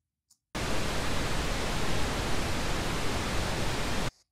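Rocket launcher thrust from the Cube video game, a steady broadband roaring hiss that starts abruptly, holds at an even level for about three and a half seconds and cuts off sharply, heard alone.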